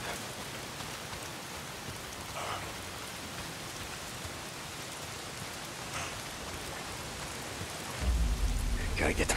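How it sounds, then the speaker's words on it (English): Steady rain pours throughout the game Days Gone, with a deep thunder rumble swelling near the end; no one talks. "If it's not the freaks, it's the goddamn rain. Why is it always raining?"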